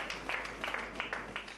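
Colleagues applauding Angela Merkel as she leaves her office, holding a bouquet, at the end of her 16 years in office: a light, fairly faint patter of clapping with a few distinct claps standing out.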